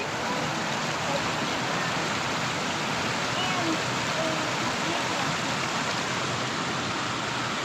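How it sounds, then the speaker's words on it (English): Small river rapids rush steadily near waterfalls along a wooded creek trail, a loud, unbroken broadband wash filling the whole clip with no clear voices on top. "Found some nice little rapids here for snack time."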